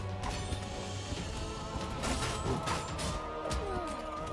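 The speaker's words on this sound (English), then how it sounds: "Those things explode." Explosions and mechanical clatter from the action roguelike video game Blade of Wiz come as a dense run of crashing, rattling impacts and sharp bursts, loud and continuous throughout.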